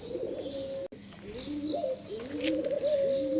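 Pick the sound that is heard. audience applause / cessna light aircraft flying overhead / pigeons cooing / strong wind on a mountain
pigeons cooing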